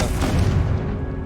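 A Confringo spell explosion in the video game Hogwarts Legacy, one loud, deep booming blast that swells and then fades away quickly.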